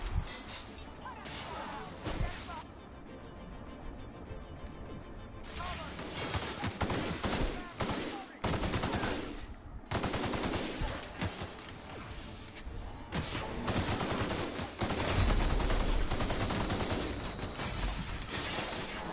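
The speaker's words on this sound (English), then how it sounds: "Why you guys shoot me, man?" Heavy gunfire aimed at the player in a video game, dense bursts of shots and loud impacts filling most of the stretch with only brief gaps, while a voice is heard over the shooting.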